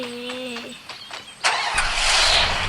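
A car engine starts up in a video game, a rising burst of mechanical noise that swells and holds loud after a quieter stretch of tonal game sounds.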